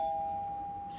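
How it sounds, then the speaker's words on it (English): A household doorbell rings with a single clear electronic chime tone that sustains and slowly fades, moderately loud indoors. "that's our doorbell"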